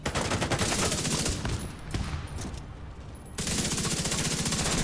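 Sustained automatic weapon fire in The Division 2 rattles loudly almost throughout, easing a little midway with sharper single shots, then surging back into a steady rapid stream of rounds.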